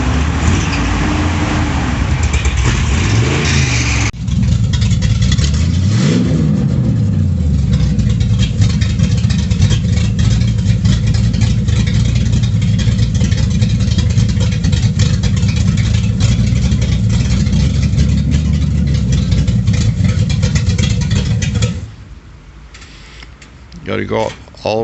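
A 1937 Dodge Brothers truck with its old engine idling and revving, a loud rough mid-range drone that rises and falls in pitch over twenty seconds, then drops away to near quiet, with voices talking nearby.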